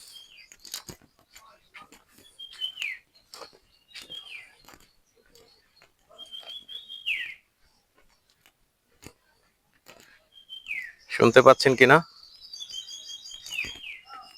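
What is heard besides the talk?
various wild birds calling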